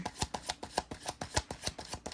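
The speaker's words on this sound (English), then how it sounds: "So I'm going to keep shuffling." Tarot cards being shuffled by hand, a quiet, close, steady run of soft riffling slaps in a quick regular rhythm, with no voices.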